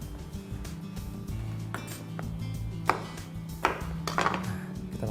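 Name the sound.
knife cutting eggplant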